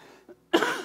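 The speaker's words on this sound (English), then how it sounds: "I don't know why I'm coughing." A single harsh cough comes from nearby, preceded by a faint throat sound and quiet background tones.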